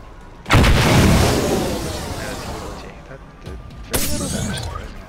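Explosions in the video game Atlas Reactor burst out in two sharp, loud blasts with crackling, shattering decay, the first longer and rumbling, the second shorter, amid game audio.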